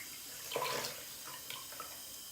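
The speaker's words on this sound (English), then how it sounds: "so I'm going to keep rinsing it out" Water runs to rinse dye out of a wig ponytail at a sink, a faint, brief splashing flow that swells for under a second and then trickles softly.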